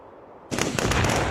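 A sudden loud blast of battlefield gunfire or mortar explodes after a quiet half second, followed by a dense, crackling rattle of rapid shots that continues to the end.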